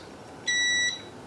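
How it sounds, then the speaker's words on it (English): A single clear electronic beep from an Epax E6 resin 3D printer, held for about half a second, sounds fairly quietly against a faint background hiss. "It beeps."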